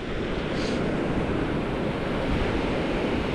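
Sea waves roll onto the beach at Playa del Carmen under rainy skies, with wind buffeting the microphone in a steady, dense roar throughout.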